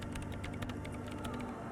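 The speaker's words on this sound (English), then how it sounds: "her hands typing hundreds of commands into the machine" Rapid keyboard typing in the video game Disco Elysium, a dense run of clicky keystrokes over a steady low hum, close and continuous, with no voices.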